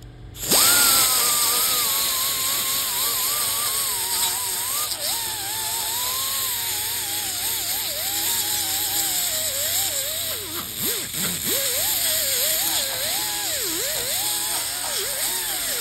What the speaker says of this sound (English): Go grab a little wire wheel and we'll wire wheel that rust out of there.